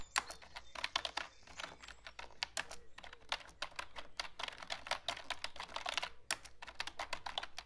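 Fingers type steadily on a computer keyboard, entering a title on an account setup page. Dense, rapid key clicks run close and continuous with brief pauses, and no voice is heard.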